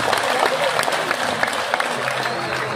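Applause at a mass cremation ceremony in Bebandem, Bali, with a crowd clapping steadily under ongoing talk and background voices.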